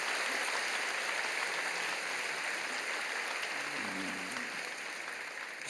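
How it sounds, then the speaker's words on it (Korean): A church congregation at a Sunday worship service applauds in a steady, moderately distant wash of clapping, with a brief low voice near the end. "여러분 크게 박수로 환영하시지요?"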